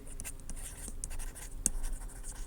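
A pen scratches across a page in a lecture room, short close strokes with a sharp tap, faint and brief over low room noise.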